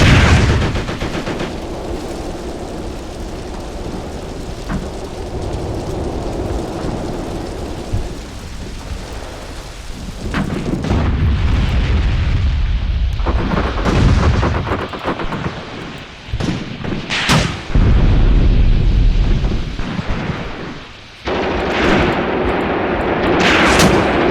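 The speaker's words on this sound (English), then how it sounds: "you can see that machine gun firing" Heavy machine gun and artillery fire booms in a WW2 tank battle video game set in the ruins of Tunisia in 1943, with dense rumbling barrages, sharp cracks and deep blasts that are loud and continuous throughout.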